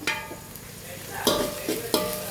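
Vegetables for broccoli soup sauté and sizzle in a pan while a spoon scrapes and stirs, with a few sharper stirring clacks over a steady frying hiss.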